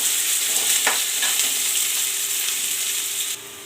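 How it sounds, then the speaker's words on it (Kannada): Onions frying in hot oil with curry leaves in a pan for egg bhurji, a loud, steady close sizzle with a brief stir partway through, no voices. "ಈರುಳ್ಳಿ ಹಾಕಿ ಚೆನ್ನಾಗಿ ಫ್ರೈ ಮಾಡಬೇಕು."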